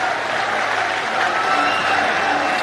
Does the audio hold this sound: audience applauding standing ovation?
yes